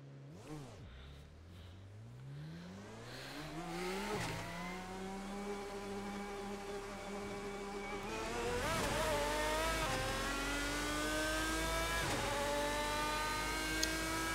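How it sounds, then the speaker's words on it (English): GT1 race car engine howling in the Assetto Corsa racing sim, a loud continuous roar rising through the gears with repeated upshifts and a sustained high-revving climb, no voices. "Man, that howl of the car."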